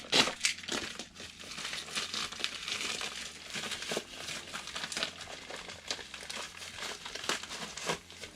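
Plastic packaging crinkles and crunches as a mailed package of MEE Audio MX Pro in-ear monitors is opened, a steady run of close, fairly loud rustling and crushing with sharper crackles throughout and no talking.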